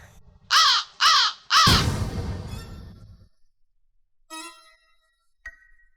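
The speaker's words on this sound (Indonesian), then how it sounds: "Kok ada suara burung gagak?" Three loud, harsh crow caws in quick succession close by, the last trailing into a fading rumble, followed by a few faint, brief sounds in near silence.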